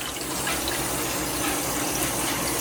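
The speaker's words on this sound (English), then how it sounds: "Let's go turn on a few more faucets and see what we get." Steady broadband rush of tap water flowing from a house faucet, continuous and fairly close with no talking, the flow sounding even throughout.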